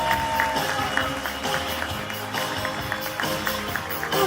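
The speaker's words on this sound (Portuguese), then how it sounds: "Recebam com muito carinho e uma calorosa salva de palmas a nossa querida Sandra Teschner." Audience at a talk on happiness applauding as a speaker walks on stage, loud continuous clapping with music playing underneath and some scattered voices.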